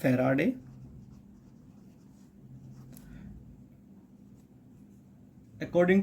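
Faint scratchy strokes of writing on a board during a physics lesson fill a quiet stretch, with someone talking just before and after.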